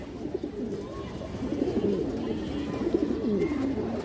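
Red khaki female pigeon cooing in a soft, repeated throaty rhythm, close and fairly quiet against a low background hum.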